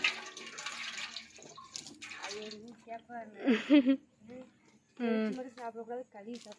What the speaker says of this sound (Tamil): இலையை கழுவிக்கிட்டு இருக்கோம்